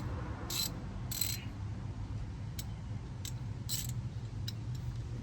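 A handheld ratchet wrench clicks in short bursts while working on the front brakes of a 1999 GMC Yukon, several quick rasping pawl runs spaced apart over a steady background hum.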